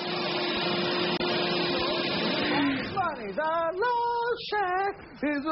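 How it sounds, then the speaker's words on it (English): A Hoover Wind Tunnel vacuum cleaner runs with a loud steady whine and hum for about three seconds, then fades as a voice speaks over the tail end. "Hoover Wind Tunnel Vacuum."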